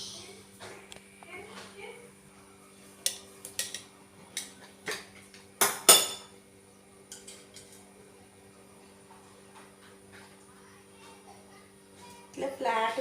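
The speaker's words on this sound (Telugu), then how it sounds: "ప్యాన్ పెట్టుకోవాలి." A metal pan is set onto a kitchen stove for deep frying medu vada in oil, several light clinks of cookware followed by one sharper clank, with a voice talking between them.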